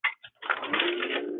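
A Linotype typesetting machine switches on with a couple of sharp mechanical clacks as brass mats drop, followed by a steady rattling mechanical whir, close and fairly loud.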